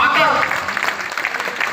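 A crowd claps at an election rally in Mehrauli, Delhi, giving a brief burst of close, lively applause mixed with a voice speaking over it.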